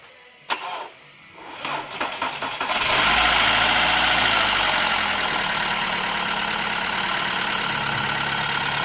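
Car engine cranking with a few sharp clicks, then catching and settling into a steady loud idle after timing belt repair, running alone without talk.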